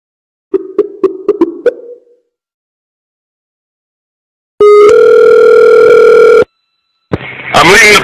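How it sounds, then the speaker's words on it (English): A telephone dial tone blares from a bar payphone left off the hook, a steady loud tone of about two seconds that follows a quick run of short pulses and gives way to a brief noisy burst. "I'm leaving the phone off the hook, you crazy."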